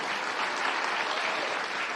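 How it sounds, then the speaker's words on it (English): Steady, dense applause from a room of union workers at a town hall as a county executive walks to the front, an even wash of clapping with no pauses. "Ryan Mello, you can give him a round of applause while he works his way to the front of the room"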